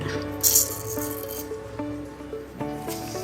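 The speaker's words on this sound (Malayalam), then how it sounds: "എണ്ണ ചൂടായിട്ടുണ്ട്. അതിലേക്ക് 1 സ്പൂണ് കടുക്" Mustard seeds spluttering in hot coconut oil for a mango carrot pickle, sharp rattling pops and crackles in brief bursts over a faint background tone, close and fairly loud.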